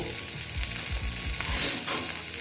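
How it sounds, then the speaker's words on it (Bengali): Koi fish frying in hot oil, a steady crackling sizzle with a few low bumps as the pan or fish is stirred, close and continuous with no talking. "দেখো বন্ধুরা আমার মাছটা একদম ভাজা হয়ে গেছে"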